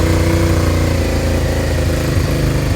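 A Suzuki SV650 motorcycle engine idles close by on a cold day, a loud, steady, throbbing rumble with no talk.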